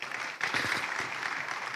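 A seminar audience breaks into brief applause, a short, even patter of many hands clapping throughout.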